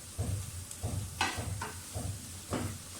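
Egg-onion curry masala frying with garam masala, a faint sizzle broken by rhythmic stirring strokes roughly every half second.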